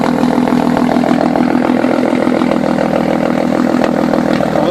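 An Audi A4 2.8 V6 quattro idles with a steady, loud, close exhaust drone, an even rumbling throb that holds unchanged throughout with no talking.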